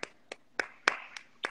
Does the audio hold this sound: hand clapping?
yes